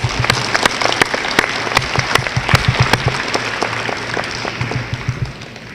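Dense applause at a youth leadership summit at Albany State University, with sharp individual claps standing out near the front, building loud and then slowly thinning and fading toward the end.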